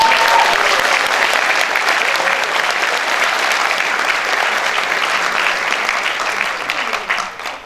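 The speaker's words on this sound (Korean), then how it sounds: "여러분 힘찬 박수 한번 부탁드리겠습니다" Applause from a crowd at a youth party rally in a hall, loud sustained clapping that fades slightly at the end, with a few faint voices mixed in.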